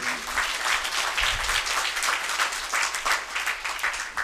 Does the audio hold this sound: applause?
yes